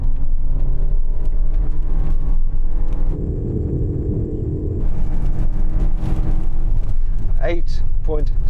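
Lexus LM luxury minivan accelerating hard in sport mode, a loud, steady engine roar inside the cabin with a shift dip midway, then rising again while a voice speaks over it.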